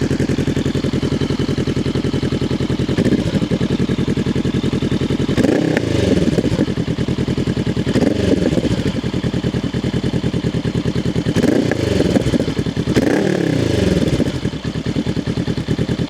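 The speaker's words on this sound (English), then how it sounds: "Right now the bike is still warm, so the sound is how it is most of the time." A warm Honda CL500 Scrambler custom build with about 35,000 km runs steadily up close, its mid-pitched engine throbbing with a clattery idle and a few short blips of revs.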